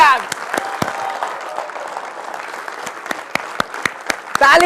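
Sustained crowd applause fills a hall at a business felicitation ceremony, a steady dense clatter with scattered louder claps standing out, and a voice speaking over it in the last moment.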